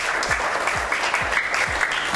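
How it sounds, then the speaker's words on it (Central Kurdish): Schoolchildren clap together in a classroom, a steady, fairly close burst of dense applause lasting a couple of seconds. "ئادی یەک چەپڵە بۆم دو هاوڕێمان"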